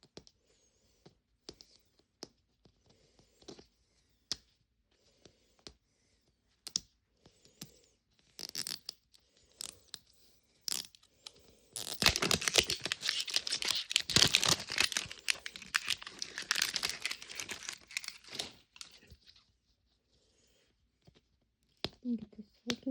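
Plastic Mini Brands capsule balls from a Family Dollar fill-the-fridge set are opened up close, first with scattered clicks and crinkles, then a dense burst of rustling, tearing wrapper noise. A voice speaks between the sounds.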